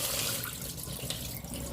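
Cold tap water runs steadily over cooked pasta in a small sieve, a close, continuous rushing splash with no voices.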